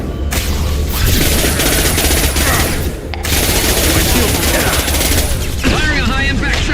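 High-impact gunshots in a Mass Effect 2 battle crash in a loud, dense, continuous barrage of booming shots, close and heavy, with a voice briefly cutting through the din.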